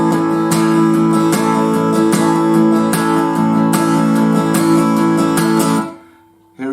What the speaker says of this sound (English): The strumming pattern I use in this song sounds like this.